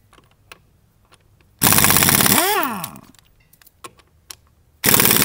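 Pneumatic impact tool driven by a modified Harbor Freight 5 gallon air tank, removing lug nuts: a loud sustained burst of hammering for about a second and a half that winds down, then a second burst begins near the end.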